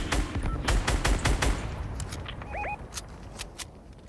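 Rapid gunfire crackles in a Fortnite squads match, a dense burst of close shots for about a second and a half, then scattered fainter distant shots, with a brief two-tone game chime near the end.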